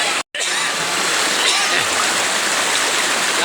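River water rushing and splashing steadily at an outing spot, a loud, broad close-up wash of flowing water after a brief silent gap at the start, with faint voices mixed in.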